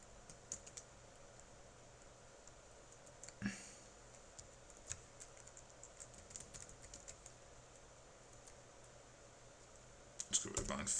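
An email address typed on a computer keyboard, heard as a steady run of light, rapid key clicks with occasional louder taps, close and quiet, growing busier toward the end.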